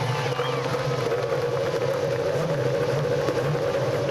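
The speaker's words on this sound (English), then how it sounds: "Drivers, start your engines." IndyCar race car engines idling after the start command at the 2010 RoadRunner Turbo Indy 300, a steady loud mechanical drone that holds throughout with no talk.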